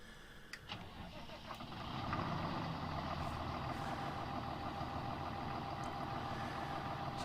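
A tractor with a command quad gearbox in Farming Simulator 19 cranks into life, and its engine swells into a steady, loud diesel rumble that holds on without a break.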